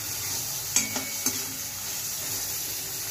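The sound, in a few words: sautéing ginger garlic paste in oil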